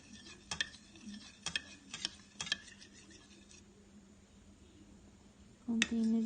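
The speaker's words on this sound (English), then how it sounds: "Then I stir the solution first for container A." Stirring a chemical solution in a lab container, heard as a few sharp clicking taps of a rod against glass at a steady rhythm, then a quiet pause before a louder clatter near the end.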